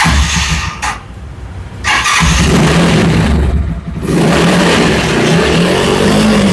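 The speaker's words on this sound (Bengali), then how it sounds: "আপনার বাইকের সাউন্ড শুনিয়ে দিবেন" A Yamaha R15 Pro sports motorcycle engine revs loud and close in repeated bursts, briefly dropping back twice before surging again and holding a high, sustained roar.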